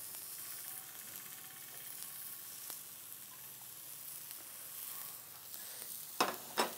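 Chicken patties sizzling on a tawa, a soft, steady sizzle with occasional faint clicks and a couple of brief louder scraping bursts near the end.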